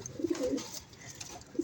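Racing pigeons coo softly at close range in a pair of short, low throaty bursts, early and again at the end, during a three-kilometre race with seven birds.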